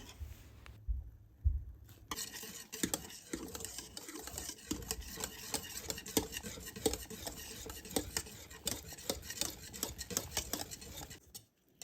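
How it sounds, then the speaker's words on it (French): A thickening three-ingredient cappuccino cake mixture being stirred almost continuously in a saucepan, giving steady scraping and clinking of a utensil against the pan bottom, close and moderately loud, with no talk. "en mélangeant presque continuellement pour éviter qu'elle n'accroche au fond de la casserole"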